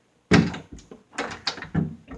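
A locked door is tried and rattled, several sharp close knocks and clunks in quick uneven succession as the handle is pulled against the latch.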